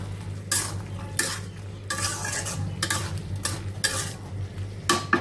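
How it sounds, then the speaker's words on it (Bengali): Chula bhuna with green chilies being stir-fried in a pan on the stove: loud, rhythmic bursts of scraping and sizzling as the spatula sweeps through, separated by brief pauses over a low steady hum. "এই যে চুলা ভুনা করতেছি"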